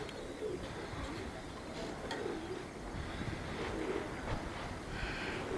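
Domestic pigeons coo repeatedly at close range in soft, rolling calls, set against a steady wash of outdoor wind noise.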